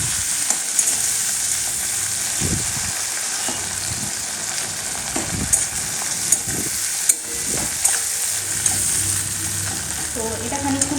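Chopped tomatoes fry in a pan over browned onions with a steady, close sizzle, and stirring scrapes and clacks break in every few seconds.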